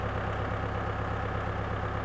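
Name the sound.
tractor engine running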